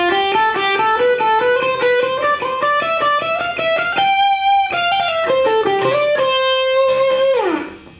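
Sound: electric guitar playing a scale sequence in groups of three

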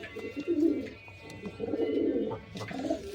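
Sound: pigeons cooing

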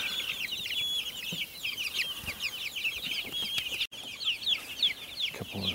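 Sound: chickens clucking in a backyard flock

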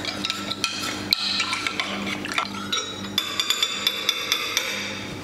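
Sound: stirring a ginger meat marinade

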